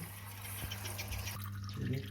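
Water running from a tap into a bowl of cut potato fries for soaking, a steady close trickle and splash with a low hum beneath and no talking.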